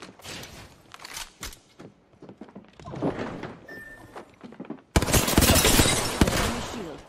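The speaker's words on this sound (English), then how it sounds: "They're shooting at me." Gunfire rattles through an Apex Legends match, with scattered weapon bursts and impacts early on and then a loud, dense stretch of shooting near the end. The firing is punchy and close, with no clear talk over it.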